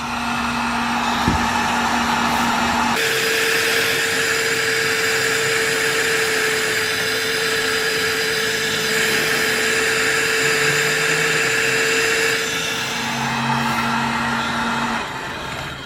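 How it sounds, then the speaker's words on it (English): A heat gun blows with a steady whirring hum and airy rush while wiring for a brake switch is worked on, starting abruptly, running loud and close, then shifting pitch near the end. "I'll just take my heat gun here"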